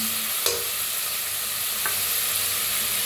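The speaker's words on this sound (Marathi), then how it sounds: "आता छान भाजले बघा" Spices, grains and peas for masale bhaat are dry-roasted in a pan, giving a constant loud sizzling hiss broken by two sharp scraping stirs of a spatula.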